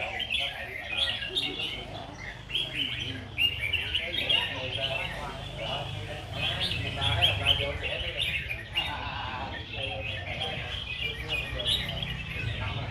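Many red-whiskered bulbuls sing at once at a bird song competition in Binh Duong, Vietnam, a busy layer of overlapping chirps and warbles, while a voice talks over the birds.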